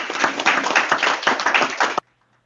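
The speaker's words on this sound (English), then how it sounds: "give them some applause" Audience applause at a board of trustees meeting: a short burst of clapping from a room of people, fairly close and loud, lasting about two seconds before cutting off to near silence.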